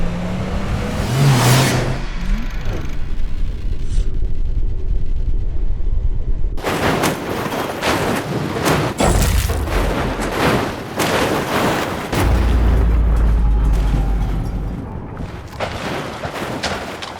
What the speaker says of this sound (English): What happens when you flip a car with a roll cage held together by duct tape?